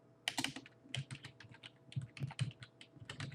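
Someone types a command on a computer keyboard, a quick irregular run of close, crisp key clicks with short pauses between bursts, with no talking.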